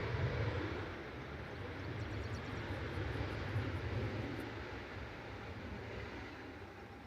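Ryanair airliner on flight 614 from Brussels Charleroi arriving at Manchester Airport, heard as a quiet, steady distant engine rumble that holds evenly and slowly fades toward the end, with no talk over it.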